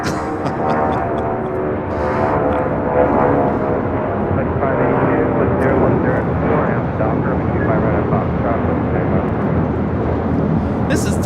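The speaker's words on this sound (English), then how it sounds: "This is Delta Airlines 631 taking off to Mexico City today on a 757-200." A Delta Air Lines Boeing 757-200 takes off from LAX with a loud, steady jet engine roar that fills the whole stretch and holds close and constant throughout.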